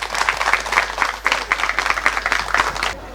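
Audience applause at a cultural arts festival at a Ganapati temple in Pedne, a dense burst of clapping from a crowd that carries on evenly, then quickly fades away at the end.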